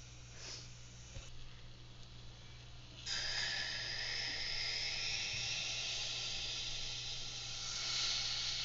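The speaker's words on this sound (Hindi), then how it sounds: "तो अब हम एक टोप लेंगे और उसमें ये गर्म किया हुआ बर्तन रख देते हैं और जो चाय हमने छान ली थी उसको अब हम इसमें डाल देते।" Strained tea poured into a heated pot set inside a larger vessel while making tandoori chai, giving a steady loud sizzling hiss that starts partway through and holds to the end.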